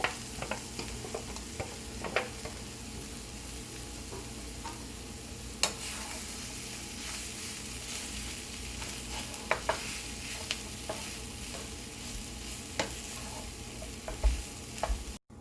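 Mashed boiled potatoes get stirred into a frying masala for stuffed capsicum, a steady close sizzle with scattered spoon scrapes and taps against the pan, continuing evenly with no voices.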